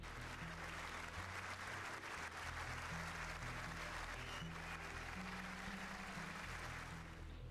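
Audience cheering and applauding for Medal of Honor recipients, a loud, steady wall of crowd noise that holds for the full stretch, with low sustained tones running underneath.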